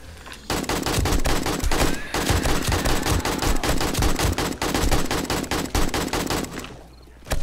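Rapid automatic gunfire in 7 Days to Die (Darkness Falls mod) during a horde fight, a dense, loud stream of shots with a brief pause near two seconds before the bursts resume and trail off at the end.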